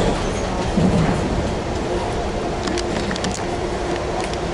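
A train rolls past in California with a steady, loud rumble and rail noise, heard from close by without a break.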